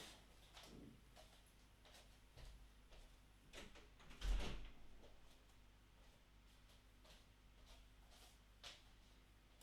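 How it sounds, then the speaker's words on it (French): A sliding glass patio door is pulled shut, giving a soft rolling scrape followed by a brief thud near the middle, faint and close in an otherwise quiet room with small ticks around it. "je vais aller fermer ma porte-fenêtre avant de me faire bouffer par les moustiques"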